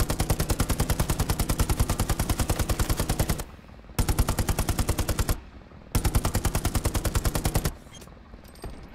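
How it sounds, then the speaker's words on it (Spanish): Heavy cannon fire in the World War II shooter Hell Let Loose, three long dense bursts of rapid, loud, booming shots separated by brief quieter gaps, with no talking. "Sí, estoy pegando yo cañonazo."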